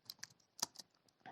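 Computer keyboard keys struck in a short irregular burst, several crisp quiet clicks spaced unevenly with brief pauses, close and alone.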